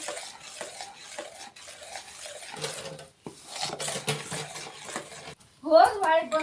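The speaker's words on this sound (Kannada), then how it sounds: "ಈಗ ಇದನ್ನು ತಿರುವಾಡ್ತೀನಿ ನೋಡಿರಿ ಫ್ರೆಂಡ್ಸ್." Spoon scraping and stirring thick gram flour batter in a bowl, a steady rasping rub repeating close by, with a short louder clatter near the end.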